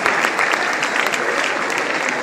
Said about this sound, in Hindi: जोर से तालियां बजाने से ठंड का एहसास भी कम होता है।